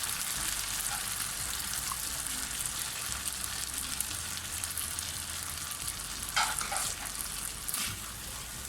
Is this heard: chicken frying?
yes